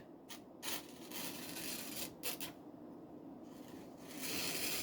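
A recurve knife edge is drawn repeatedly along a radiused polymer strop with oil, giving close, steady rasping strokes with short gaps between passes.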